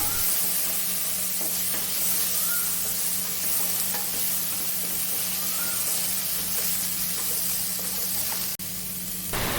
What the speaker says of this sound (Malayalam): ഇനി അതിലേക്ക് ഞാനൊരു ഒരു മീഡിയം ടൈപ്പ് തക്കാളി മുറിച്ച് വെച്ചിട്ടുണ്ടായിരുന്നു, അതും കൂടി ഇട്ടിട്ട് നന്നായിട്ടൊന്ന് വഴറ്റിയെടുക്കാം.